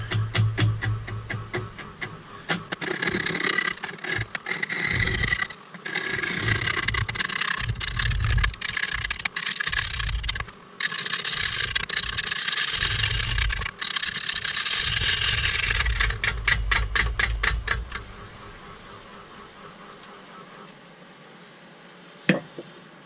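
A wood lathe turns a cracked natural-edge bowl blank at a slow 250 RPM while a sharpened 5/8 bowl gouge cuts it, making a loud rhythmic knocking scrape that stops in the last seconds.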